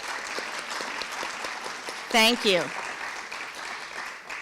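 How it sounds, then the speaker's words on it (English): Audience applause at an evening domestic violence education and prevention forum in an auditorium, a steady wash of clapping throughout with a brief spoken thank-you in the middle. "we need to give her an applause"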